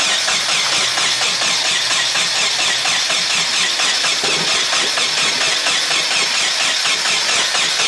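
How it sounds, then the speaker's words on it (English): Nissan 240SX engine running hard after cranking, a loud, steady, close roar with squealing overtones that fill the whole stretch, with no talk over it. "I'll check back in once we try cranking it again"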